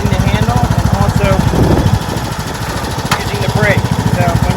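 A Craftsman T2600 lawn tractor engine runs with a rapid, pulsing putter close by, dipping briefly midway, while a person talks over it.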